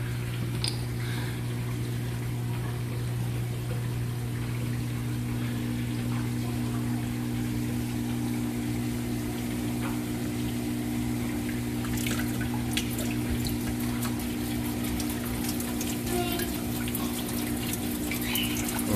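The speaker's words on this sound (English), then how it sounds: "add the water" Water is poured into a phytoplankton culture chamber in an aquarium sump, a continuous trickling and splashing over a steady low pump hum, close and unbroken, with brief sharper drips toward the end.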